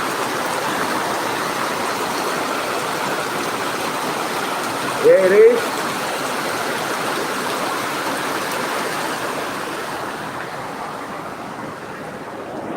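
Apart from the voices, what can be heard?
heavy rain falling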